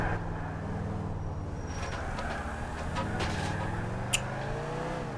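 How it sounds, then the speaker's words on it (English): A car engine hums and shifts in pitch while being driven in Grand Theft Auto IV, steady and close, with light road noise and a short sharp click partway through. "Now, the driving in GTA 4... Yeah, it's realistic."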